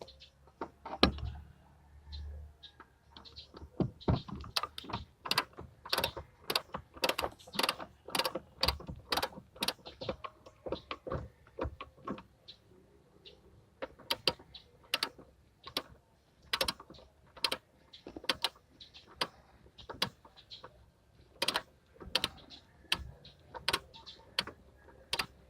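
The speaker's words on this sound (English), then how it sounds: "So let's use the ratchet." Socket ratchet with a size 12 socket working a back seat bolt loose in a Hyundai Eon, a long run of quick, close clicking with brief pauses, no talking.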